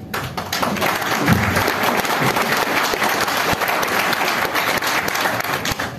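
Audience applause fills a hall during a business talk in Udaipur, a steady, dense clapping that holds at an even level for several seconds with no speech over it.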